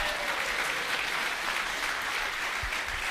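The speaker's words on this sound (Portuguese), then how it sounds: "Uma salva de palmas para ele." An audience at a lecture applauds continuously, a dense, even wash of clapping from many hands held at a moderate, steady level for the whole stretch.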